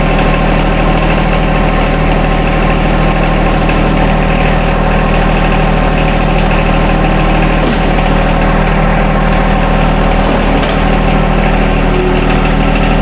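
Compact tractor engine running at a steady, loud, close idle with a constant low drone and vibration, continuing unchanged while the controls are operated, with no voices.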